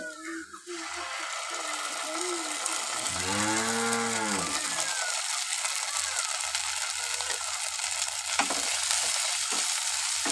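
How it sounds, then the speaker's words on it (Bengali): Onions with spices sizzle steadily in a pan while being stirred. A cow moos loudly nearby partway through, and faint voices are heard in the background. "পেঁয়াজগুলো লাল লাল করে ভেজে নেব এবারে মশলাগুলো সব দিয়ে দেব"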